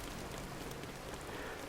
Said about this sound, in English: Right now, it is raining.